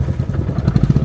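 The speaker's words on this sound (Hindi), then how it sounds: "देख कैसे फिसल रही है बाइक।" A motorcycle slips along a snowy mountain road in Spiti near Chicham Bridge. Its engine thumps loud and close in a steady, rapid pulse, with no talking.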